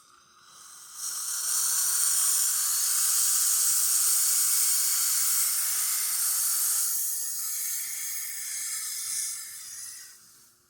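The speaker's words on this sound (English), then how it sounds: "So let's test the steamer." Loud, steady hiss of steam from the wand of a La Pavoni lever espresso machine, rising abruptly, holding for several seconds with a slight shift in tone, then tapering off; close and alone.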